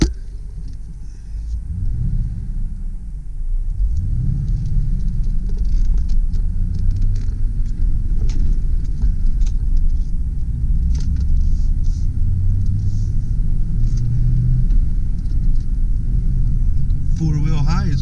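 A 2000 Ford F-150 extended-cab 4x4 with a five-speed manual gearbox drives in four-wheel high, its engine rumbling steadily under constant road noise, with a person talking over it.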